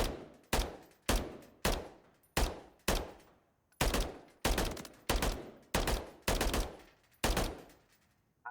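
Single shots from a Holger 556 rifle in a video game, about thirteen sharp loud reports fired at a steady, evenly spaced pace, each followed by a brief decaying ring as rounds strike metal plates.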